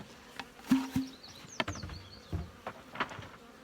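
Honey bees buzz around an open hive frame, a soft, close drone broken by a few sharper individual bee passes and faint knocks from handling, with no talk.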